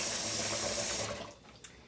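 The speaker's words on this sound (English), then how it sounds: "fill up our pot with some water for the pasta" Tap water runs steadily into a cooking pot being filled for pasta in a home kitchen, a close, continuous rushing stream that cuts off partway through, leaving a faint drip and clink.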